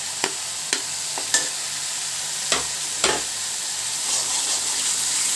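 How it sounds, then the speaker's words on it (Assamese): Ginger garlic paste dropped into browning onions in a pan while cooking a sour fish curry: a steady close sizzle broken by several sharp clacks of a spatula stirring, with no talk. "মোৰ পিঁয়াজ ৰঙা হ'ব ধৰিছে। মই ইয়াতে এইটো আদা নহৰু পেষ্টখিনি দি দিছোঁ।"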